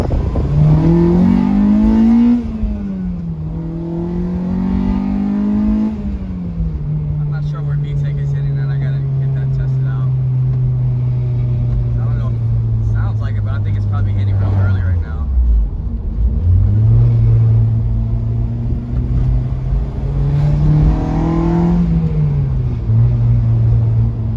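A Mitsubishi Eclipse engine swapped to a Honda K20Z1 Type S runs loud and steady, its pitch climbing and dropping as it revs up and settles back, with a brief dip partway through.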